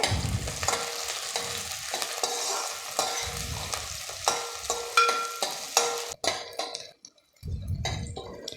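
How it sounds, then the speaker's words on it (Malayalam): Sliced shallots and curry leaves fry in oil for Kerala sadya sambar, a bright sizzle broken by repeated close scraping strokes and metallic clinks of a spoon against the pan, briefly falling quiet near the end. "ഇതിലേക്ക് നമ്മൾ അരിഞ്ഞു വെച്ചിരിക്കുന്ന ചെറിയ ഉള്ളി ചേർത്ത് കൊടുക്കാം. കുറച്ച് കറിവേപ്പിലയും ചേർത്ത് കൊടുക്കാം."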